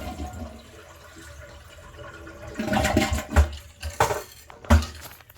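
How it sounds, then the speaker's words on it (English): A toilet flushes nearby with a rushing gurgle of water that builds after a few quiet seconds, then surges in a few loud bursts as the tank empties during a bidet installation; no talking. "We're going to flush the toilet."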